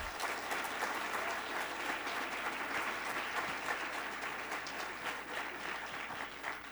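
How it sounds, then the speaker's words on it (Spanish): An audience at a leadership talk gives a long, steady round of applause that stays even and dense throughout, with the hall full of clapping. "Un fuerte aplauso para él, por favor."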